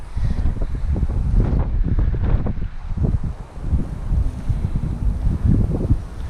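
A strong gust of wind, estimated at 40 to 45 mph, roars into the microphone on a stormy day near the water, rumbling and buffeting loudly for several seconds with surging peaks and no speech.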